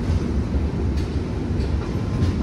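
Kondaveedu Express, a fully air-conditioned passenger train, running steadily with a continuous low rumble and broadband rolling noise, heard from inside the coach with no talking.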